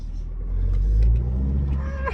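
A newly delivered car's engine revs up as the driver pulls away, a low steady rumble that swells to a peak about midway and then settles, close and continuous with no talk.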